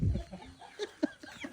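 A chicken clucks a few times in short, quiet bursts, heard from a little distance against low background noise.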